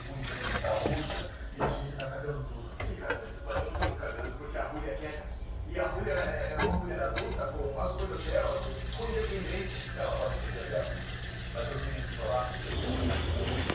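LG Turbo Drum 8 kg washing machine draining water, a continuous loud rushing and gurgling that runs the whole time, with a person talking over it.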